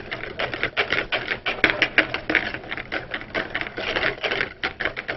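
A whisk clicks and taps quickly and steadily against a bowl while mixing a salad dressing for an edamame and corn salsa, close up and busy with no talk.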